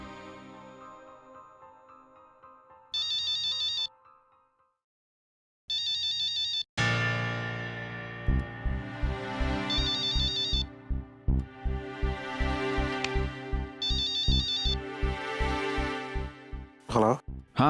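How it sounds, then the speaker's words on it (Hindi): A phone rings while calling out, with two short electronic ringback bursts separated by silence. Music and a tune with a steady beat follow, with more ringing tones over it. "मैं अभी फोन लगाता हूँ उसे।"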